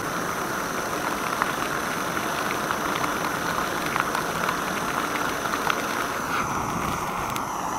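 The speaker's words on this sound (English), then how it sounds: "That could be the glycol burning off, because glycols are alcohols." Evans waterless coolant sizzles on hot aluminium as its glycol burns off, making a steady, loud hiss with a low rumbling undertone and faint crackles throughout.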